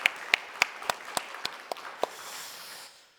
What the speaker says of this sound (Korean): 우리 손뼉치며 하나님께 감사로 영광을 드리겠습니다